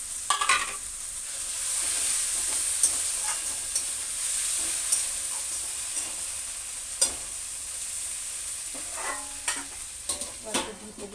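Chopped tomatoes go into fried onion masala and are stirred, giving a soft continuous sizzle broken by scattered spatula scrapes and knocks against the pan, busier at the start and end.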